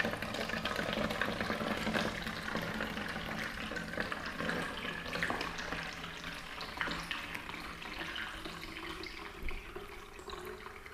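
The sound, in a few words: liquid poured into bottle through mini funnel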